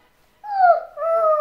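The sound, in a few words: child imitating a dog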